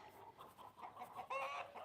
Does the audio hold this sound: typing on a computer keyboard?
no